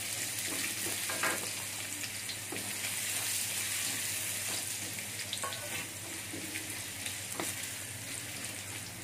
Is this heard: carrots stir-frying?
yes